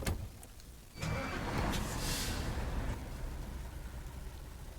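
A heavy truck engine in the off-road game SnowRunner surges to full throttle after a brief lull, then holds a loud, steady low roar that thins slightly toward the end, with no voices.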